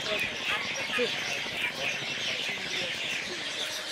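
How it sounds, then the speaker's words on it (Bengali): Birds chirp and call around a village in the Sundarbans, a busy layer of tweets and clucks running steadily throughout, with a person talking over them. "চারপাশে এত পাখির কিচিরমিচির"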